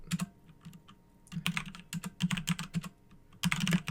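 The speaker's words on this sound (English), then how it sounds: "I'll type in router" Close computer keyboard typing as router configuration commands are entered, coming in quick irregular bursts of clicks separated by short pauses, alone with no talking.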